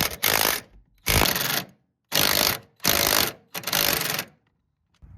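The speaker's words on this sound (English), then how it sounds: "Next step is going to be 3 18mm nuts on top of the strut." A ratchet loosens the 18mm nuts on top of a strut on a 2007-2013 Silverado-type truck, sounding five close, loud bursts of rapid clicking separated by short pauses, with no talking.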